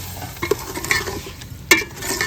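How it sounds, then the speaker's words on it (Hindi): Dal (lentils) being stirred in a pot, with a spoon scraping and knocking against the metal over a soft sizzle, two sharper clanks standing out, close by and with no talking. "और दाल को अच्छे तरीके से मिक्स करे"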